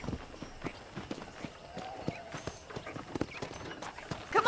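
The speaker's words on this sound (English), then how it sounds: "let's see if you can still ride a horse." Horse hooves clip-clop at a galloping run in the video game Red Dead Redemption, a steady rapid patter of thuds close up, with game dialogue voices over it.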